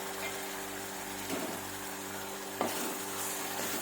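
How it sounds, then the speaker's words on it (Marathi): Tomatoes with a pounded chili-garlic mix sizzle steadily in hot oil for a traditional mung bean dish, a constant frying hiss broken by a couple of soft stirring scrapes. "जे आपण कुटून घेतलेली मिरची आहे ना त्याबरोबर 1-2 मिनिट असंच परतून घ्यायचं, एक अर्धा मिनिटभर परतायचं."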